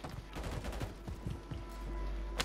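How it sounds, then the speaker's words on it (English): Gunfire rings out in a Call of Duty match: quiet, scattered bursts of shots with a sharper crack near the end, heard at some distance. "He's getting shot at by someone else."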